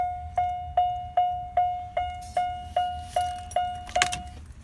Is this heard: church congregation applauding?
no